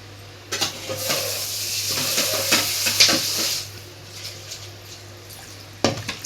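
Washed mint leaves hitting a hot pan and sizzling loudly, with stirring scrapes and clinks of utensil on metal, the frying hiss fading after a few seconds before a final clatter.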